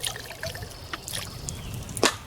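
Water poured into a cast iron pot while cooking a pork roast outdoors over a wood fire: a quiet, uneven trickle and splash with a brief louder splash near the end.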